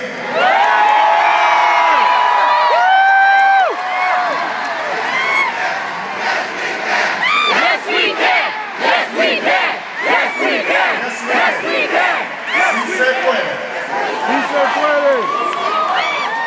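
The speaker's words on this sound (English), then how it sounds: "this is an incredible crowd, a magnificent crowd" A large crowd at an Obama rally in Los Angeles roars with sustained cheering, whoops and shouting, loud and dense throughout, with rising chants and yells layered over the continuous din.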